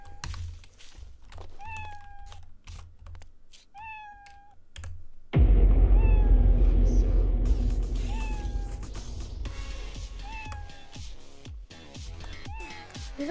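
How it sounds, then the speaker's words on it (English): Meows from a kitten in a Roblox Evade game ring out in a repeated series of short, clear calls, first over quiet clicking and then over a loud, rumbling game background with thuds. "Kitten."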